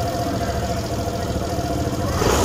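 A Suzuki Burgman 125 scooter with a stalling fault, its small engine running close by in a steady mid-pitched drone that swells slightly near the end.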